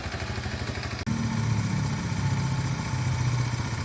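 Honda CT110 small motorcycle on a test ride, its engine running with an even close putter, a brief cut near the start, then a steady slightly louder hum.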